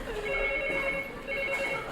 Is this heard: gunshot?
no